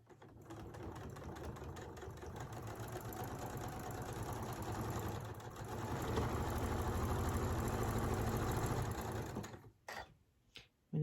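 A sewing machine stitches quilt pieces for a flying geese block with a quarter-inch seam, giving a steady, close mechanical whirr that runs for about nine seconds before stopping, followed by a few small handling clicks.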